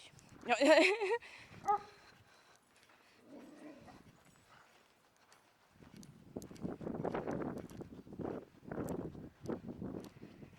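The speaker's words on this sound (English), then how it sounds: "Should never mess with a dog through the fence, but I can admire their beauty through the fence and tell them they're a good boy." A dog barks behind a fence at an abandoned power house in Norco, California, giving a couple of loud, close barks at the start before falling quiet as people begin talking nearby.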